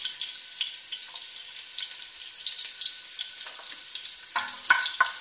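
Garlic sizzles in hot oil for a chop suey with chicken gizzards and quail eggs, a close crackling hiss with scattered pops and a few sharper stirring bursts near the end, no talk.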